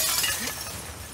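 Glass breaking in The Last of Us Part II, a brief bright crash that rings out and decays over about a second, fairly close and with no talk over it.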